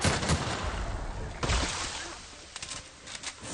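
A gun firing in a video game: loud bursts of shots at the start and around 1.5 seconds, then quicker, lighter shots near the end, with some voice mixed in.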